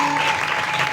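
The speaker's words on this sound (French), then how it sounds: "Acclamez très fort pour vous." A church congregation applauding and cheering, a dense continuous wash of clapping and voices that fills the whole short moment at steady loudness.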